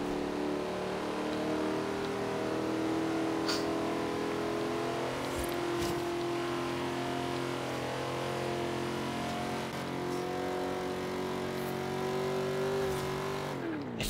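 A Holden HQ engine droning at high revs in Forza Horizon 3, a loud, steady multi-toned hum held for many seconds, rising slightly in pitch before cutting off at the end.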